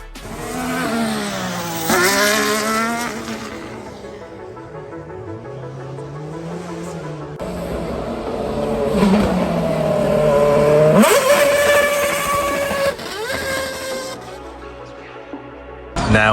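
An 8.3 litre V8 hypercar engine revs hard and accelerates on the hill course at the Goodwood Festival of Speed, with loud, close roaring that rises in pitch through several gear shifts and sustains throughout.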